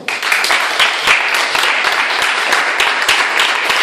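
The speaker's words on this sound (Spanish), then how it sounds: "denle un fuerte aplauso al Señor" A church congregation claps loudly in praise of the Lord, a dense, steady crowd applause with sharp individual claps, sustained throughout with no talk over it.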